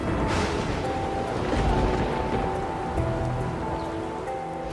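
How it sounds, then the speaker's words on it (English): Steady rain falls at a cenote, a dense broadband hiss of drops hitting surfaces. It stays constant and fairly loud throughout, with no voices. "We got rained out by the Maya water god Chalk and left with no visibility."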